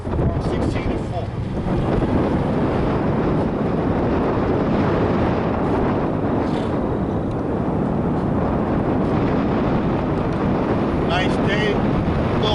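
Wind blowing outdoors on a street, a loud continuous rumbling roar buffeting the microphone for the whole stretch.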